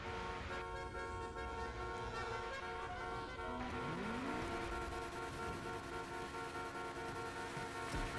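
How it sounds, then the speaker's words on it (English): Many car horns honk together in a dense, sustained chorus of overlapping tones, loud and close, with engine noise beneath; a sliding horn or engine tone rises midway. "Why did everyone honk their horn collectively?"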